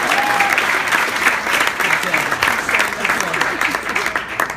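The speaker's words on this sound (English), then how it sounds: "I love the sound of applause" Wedding guests burst into sustained, loud applause, a dense crowd of clapping hands with scattered cheers and a brief whistle at the start.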